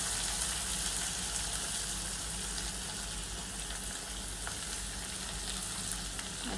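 Finely chopped onion fries in a pan with cumin seeds, giving a dense, continuous sizzle close by at a constant level with no talking.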